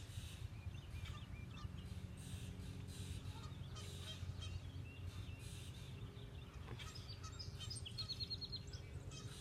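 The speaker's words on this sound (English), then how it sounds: "There's a lot of birds around here too. They're all squawking" Birds squawk and honk outdoors, faint and distant, goose-like calls and chirps scattered over a steady low background rumble.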